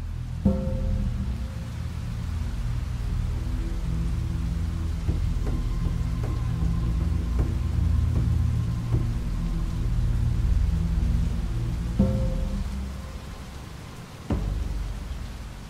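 Steady heavy rainfall hisses throughout while low thunder rumbles in the distance, swelling in several rolling waves.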